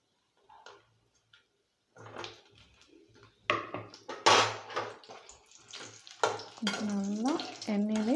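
Quartered eggplant pieces drop into heated oil in a pan while cooking Chettinad puli kuzhambu, setting off a close, loud crackling sizzle that starts in scattered bursts and swells into a steady fry, with a brief tonal squeal near the end.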